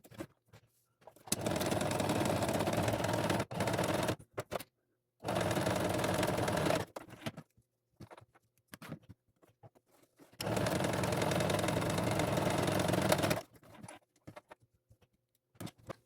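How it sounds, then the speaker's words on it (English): A sewing machine stitches felt pieces of a bunny for a busy book, running in three long, steady bursts of rapid mechanical clatter separated by quiet pauses. "I'm going to sew around the whole head, not sew down the ears because I want them to be able to flop."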